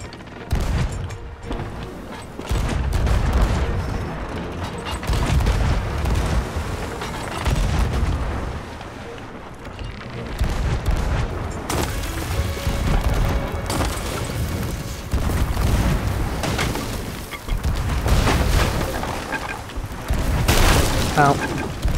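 Ship cannons in Sea of Thieves fire in repeated heavy booms, some close and loud, others distant, rolling through a continuous barrage amid ocean and ship noise.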